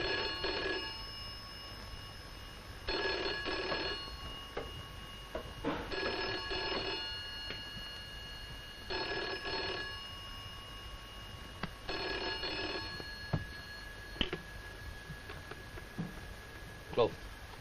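An old telephone bell rings for an incoming call in a 1965 police drama, five evenly spaced double bursts close by, then stops as voices speak.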